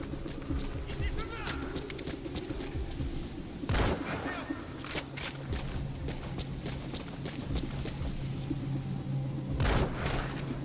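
Mortar shelling and gunfire in the game Metal Gear Solid V, with two heavy explosive bursts standing out over a busy layer of scattered shots and battle noise while someone talks throughout.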